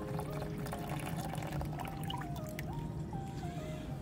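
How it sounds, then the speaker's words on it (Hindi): Water is poured off the top of a container holding settled copper residue, a faint, steady trickle and splash under low background noise, with no speech. "पानी को थोड़ा ऐसे निकाल दें।"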